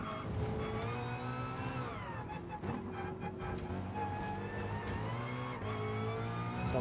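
Ford Mustang race car in a racing game on the Sardegna road track, its engine droning steadily with gear changes and pitch dips through corners, loud and close throughout.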